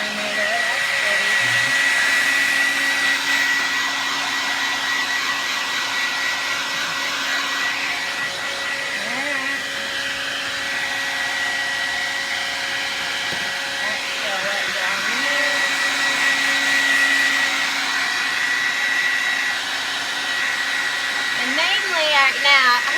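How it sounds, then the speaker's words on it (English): A hair dryer blows loudly and steadily for the whole stretch, a constant close whooshing roar with faint voice traces beneath. "I hope you can hear me over my blow dryer."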